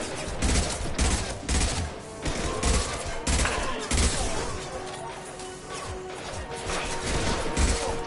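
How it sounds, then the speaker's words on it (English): Repeated heavy weapon impacts in Mass Effect combat tied to a concussive shot, loud irregular bursts and crashes recurring throughout amid a busy battle din. "Firing concussive shot!"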